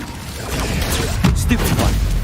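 The Incendio fire spell is cast in Hogwarts Legacy, giving a couple of rough, crackling bursts and whooshes over a steady loud bed of game sound, with some voice-like sound mixed in.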